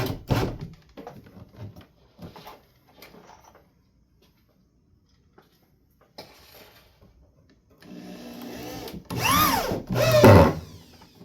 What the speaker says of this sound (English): Now I can put some screws in the wall here.